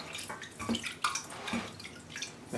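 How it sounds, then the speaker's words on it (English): Water flicked by hand onto sphagnum moss while repotting a Masdevallia ignea orchid, heard as a scatter of soft, close drips and light splashes in quick irregular bursts, alone. "what we'll do is we'll flick water on it like that"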